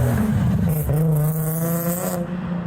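Turbocharged Honda Civic at a car meet revving hard, a loud close engine note climbing and holding steady with strong harmonic drone and turbo whistle over crowd noise.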